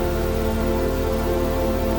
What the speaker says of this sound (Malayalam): പെട്ടെന്നാണ് മഴ പെയ്യാൻ തുടങ്ങിയത്